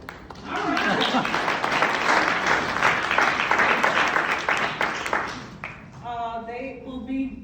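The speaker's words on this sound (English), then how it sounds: "Let's give them a round of applause." Loud, sustained applause from a crowd, dense clapping fading after several seconds, with voices speaking near the end.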